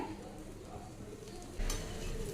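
A soya chunk adai fries in oil on a pan with a soft, steady sizzle, and a louder burst of crackle and pan noise comes near the end.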